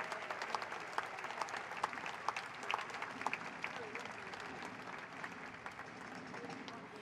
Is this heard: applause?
yes